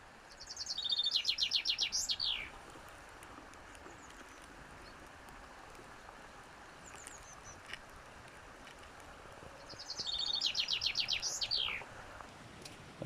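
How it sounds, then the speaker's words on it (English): A chaffinch sings outdoors at a farm, two clear descending trilled phrases ending in a flourish, spaced several seconds apart, moderately near over a soft breezy background. "Your songster is in fact a chaffinch."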